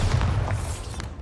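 Bombarda spell explosion in the Hogwarts Legacy video game, a dense booming blast with rumbling low end that stays loud and sustained through the moment, with no talk over it.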